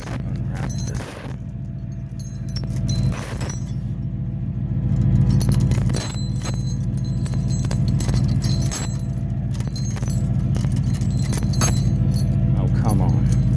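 A tow truck's chain is unwrapped and rattles, with repeated metallic clinks and jangles over a low rumble, some louder scraping bursts close by.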